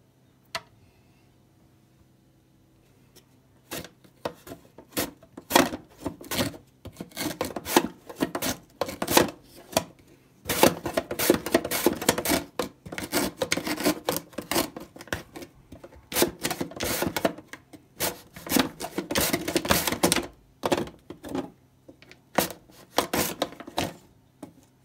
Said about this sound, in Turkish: O yüzden ince doğramanız önemli.